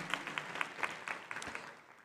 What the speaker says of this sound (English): will you give them a hand of applause